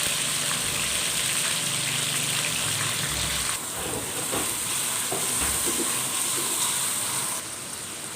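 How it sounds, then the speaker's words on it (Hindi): Garlic and ginger paste sizzles steadily in hot oil while chicken biryani is being cooked, a continuous close frying hiss with soft stirring, and no voices. "अब इसमें 2 चम्मच लहसुन, 2 चम्मच अदरक का पेस्ट डालेंगे। इसको भी 1 मिनट तक फ्राई कर लेंगे।"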